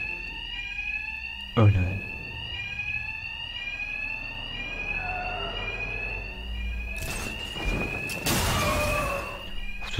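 In the video game Batman Arkham Knight, a bank alarm rings continuously with a steady electronic warble. Loud crashes and bursts of action break in, and someone speaks briefly over it.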